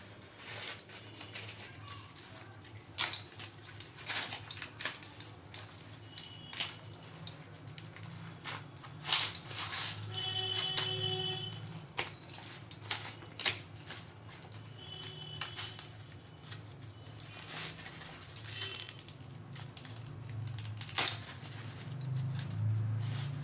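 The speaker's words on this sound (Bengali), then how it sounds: "এইভাবে সুন্দর করে খোসাগুলো ছাড়িয়ে নেব।" Corn cobs being husked by hand, a series of close crisp tearing and rustling bursts at an irregular pace, alone over a low background hum.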